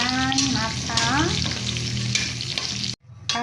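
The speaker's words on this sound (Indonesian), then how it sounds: "Aku goreng cabai, bawang, dan kemiri ya teman-teman ya" Chili, shallots and candlenut frying in oil, a loud, close, continuous sizzle with stirring scrapes, and a brief pause near the end before the sizzle returns.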